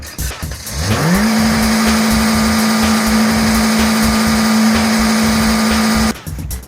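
A brand-new 2016 Toyota Corolla engine cranks and catches, its pitch sweeping up within a second, then settles into a loud, steady idle with a constant whine before cutting off near the end.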